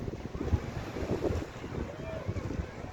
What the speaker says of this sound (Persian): به به عجب دریا.